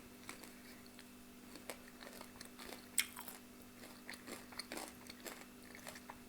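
Garlic croutons, slightly burnt, crunched and chewed up close in a quiet setting, with soft repeated bites and crisp crackles spread over several seconds, one sharper crunch standing out midway.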